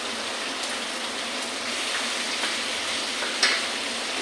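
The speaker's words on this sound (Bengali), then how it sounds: "আমার পাঁচফোড়নটা ভাজা ভাজা হয়ে গেছে, আমি ওটা দিয়ে রঙের জন্য কাশ্মীরি লঙ্কা দিয়েছি" Panch phoron spices with Kashmiri chili sizzle in hot oil, a steady close crackle with a few sharper pops and one brief clink near the end.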